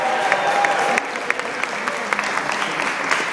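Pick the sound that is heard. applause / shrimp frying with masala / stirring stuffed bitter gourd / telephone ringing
applause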